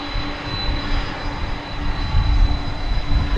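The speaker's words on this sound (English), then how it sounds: "we saw an MD-10 of a FedEx arriving" A FedEx MD-10 jet arrives at DFW Airport at night, its engines making a steady, loud roar that swells slightly toward the end, with no voices.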